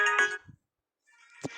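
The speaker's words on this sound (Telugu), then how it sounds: "అదేదో ఫోన్ కాల్ వచ్చింది, పట్టించుకోకండి గైస్ దాన్ని." A phone ringtone from an incoming call plays during a Roblox zoo escape game: a short bright melodic burst, a second of silence, then the tune starts again, fairly quiet.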